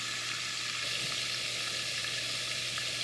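Beef liver fries in a pan of hot grease with a steady, dense sizzle and crackle that holds at an even, close level throughout, with no talking.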